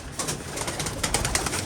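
Pigeons coo and flutter softly nearby, a steady murmur of bird sounds with a few brighter chirps and rustles throughout.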